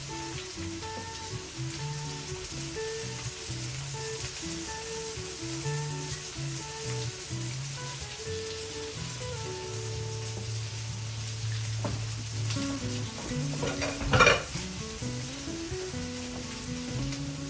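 Roasted garlic cloves, pressed, sizzle in a hot pan as a steady frying hiss that runs throughout, with a brief louder clatter of stirring near the end.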